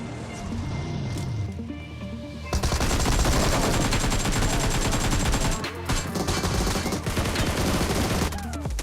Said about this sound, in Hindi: मुझे रिकाल की तरफ से गोलियां चलने की आवाज आती है।